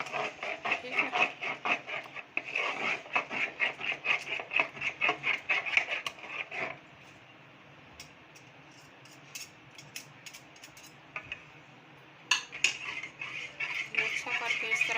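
Burger coating batter of egg and flour whisked in a bowl, a fast rhythmic clatter of utensil against the bowl for several seconds, then a pause and a few scattered taps and scrapes.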